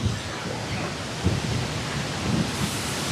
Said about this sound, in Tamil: தண்ணி செமையாக விழுந்துட்டு இருக்குங்க